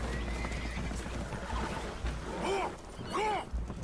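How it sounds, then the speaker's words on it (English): Spooked horses whinny in Red Dead Redemption 2 aboard a leaking boat taking on water. Two shrill, wavering neighs rise over a rumbling, sloshing background, with hooves clattering beneath. "Horses are spooked"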